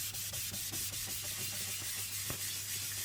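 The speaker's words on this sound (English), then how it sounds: "First going to clean this stone" A sharpening stone is rubbed and scrubbed clean before a Naniwa 8000 grit nagura is used, giving a steady gritty rasp of close, rhythmic strokes with a low hum underneath.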